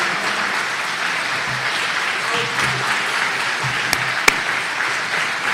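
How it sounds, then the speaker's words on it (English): Steady, sustained audience applause for teachers and coaches standing at an athletics hall of fame ceremony, filling a large room evenly, with a couple of sharp louder claps near the end. "Give them a round of applause"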